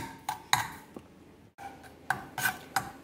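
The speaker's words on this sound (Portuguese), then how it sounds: "Aí mistura pra não grudar na panela" A utensil stirs garlic frying in oil in a cooking pan, with sharp metallic scrapes and clinks in irregular bursts and a short silent gap midway, close and fairly loud.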